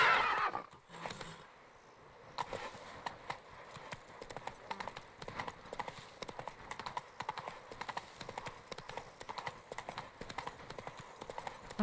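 Roach, the horse in The Witcher 3, gallops over rough terrain in a steady, rhythmic run of hoof clops, fairly quiet, after a brief whinny near the start.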